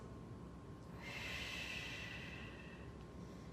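Slow, steady breathing during a Pilates mat stretch, a soft airy inhale or exhale swelling for about two seconds in a quiet room, with no talking.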